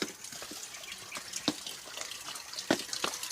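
Water spatters and trickles from a hose at a mountain garden, with irregular splashes and drips close by and no voices.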